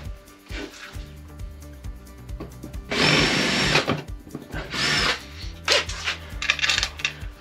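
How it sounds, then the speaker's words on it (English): A power drill drives screws to mount an Aldi Workzone router table into a workbench, with two loud bursts of whirring, the second shorter, among quieter handling clatter. "I'll just put a couple of screws in."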